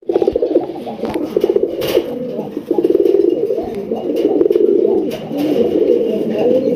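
A pair of pigeons coos in repeated low throaty rolls, loud and close, overlapping in a steady rhythm with a few brief clicks and rustles.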